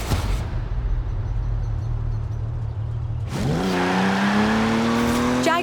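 A Jaguar in the racing game Forza Horizon 4, its engine droning steadily and then climbing into a loud rising rev as it accelerates, with tire noise and a whirring rise near the end.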